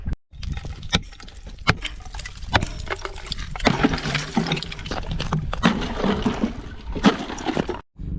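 Water overflows from a cattle water tank whose float is stuck down, in sub-zero cold with ice forming. A steady close wash of running, splashing water is broken by sharp knocks and clunks, with no one talking.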